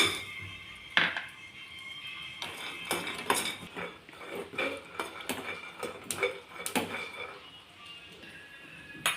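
Peanuts dry-roasting in a pan give off a series of close, irregular clattering scrapes and rattles as a spatula tosses them, with quieter pauses between bursts.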